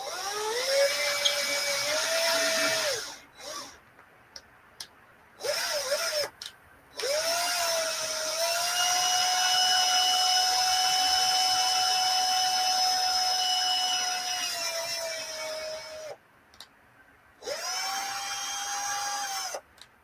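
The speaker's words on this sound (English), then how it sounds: "There's probably a second pin under the plug to be drilled out." A power drill whines loudly while drilling out a pin beneath a lock plug, running in long sustained bursts with brief stops and restarts, the pitch dipping under load, with no talk over it.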